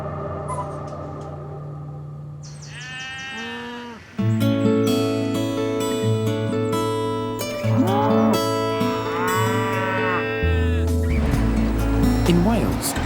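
Cattle low repeatedly over a busy sheep and cattle farmyard in Wales, with sheep bleating and other animal calls overlapping, some close and loud, others farther off.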